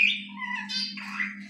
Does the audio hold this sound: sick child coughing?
no